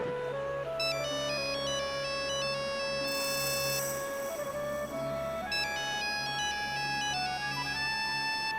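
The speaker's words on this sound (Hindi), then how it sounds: "घंटी यहीं कहीं बज रही है।" An electronic mobile phone ringtone plays a repeating melodic pattern, clear and steady, with no voices over it.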